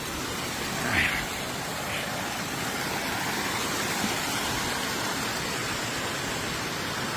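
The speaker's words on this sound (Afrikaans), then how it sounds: "So ja, hierdie is die bokant van die waterval" Steady, broad rushing roar of water from the top of a waterfall, continuous and fairly close, with a faint brief disturbance early on.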